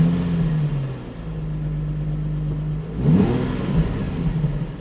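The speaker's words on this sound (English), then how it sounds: "Now this does have a standard exhaust, but I shall open the door so you can hopefully hear it when I start it." Mazda RX8 with a standard exhaust idling steadily, heard through an open car door, then a brief rise in engine note as it revs a little, near and moderately loud with no talk.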